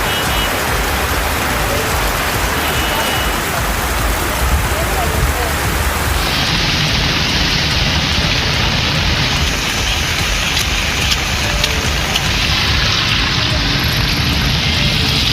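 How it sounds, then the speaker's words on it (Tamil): Heavy rain pouring over Kodaikanal and its surroundings, a loud, dense, unbroken hiss of downpour filling the whole stretch. "கொடைக்கானல் மற்றும் அதன் சுற்றுவட்டார பகுதிகளில் 1 மணி நேரத்திற்கு மேலாக கனமழை பெய்தது."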